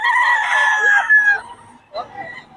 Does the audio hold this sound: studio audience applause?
no